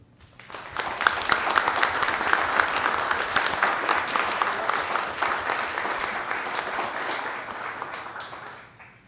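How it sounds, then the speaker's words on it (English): Sustained applause from the audience at a special city council meeting in Socorro, dense steady clapping that swells quickly, holds for several seconds and fades at the end. "I appreciate the applause"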